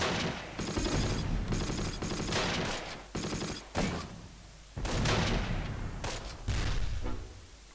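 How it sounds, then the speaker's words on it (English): Machine gun fire and other weapon reports from the WWII tactical game Close Combat, set in the Wacht Am Rhein campaign, coming in loud sustained bursts broken by short gaps and sharp impacts. "They do have that machine gun."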